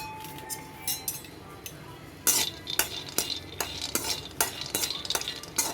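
Peanuts dry roasting in a pan for a chutney, stirred with a utensil: a rapid run of scraping, rattling clicks and clinks, fairly close and loud, with no talk over it.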